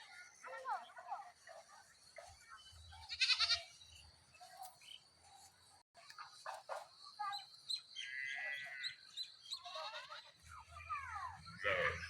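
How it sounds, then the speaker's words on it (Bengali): Cattle and other livestock being driven home through a village, with bleating animals, birdsong and distant calls mixed with people talking nearby. "সবাই এখন যে গরু টরু নিয়ে বাড়ি যাচ্ছে।"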